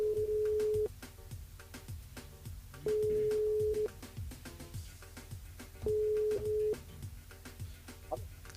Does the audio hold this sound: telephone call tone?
yes